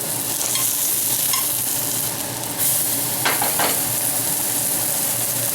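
Avocado bread buns frying in a pan, a steady loud sizzle with stirring scrapes and a brief hissing burst near the middle, no talk.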